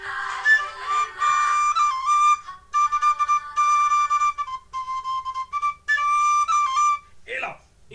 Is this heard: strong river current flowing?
no